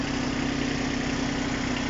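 A Japanese four-wheel-drive tractor fitted with a rotary tiller idles just after starting, a steady, close, even diesel rumble with a constant low hum and no knocks.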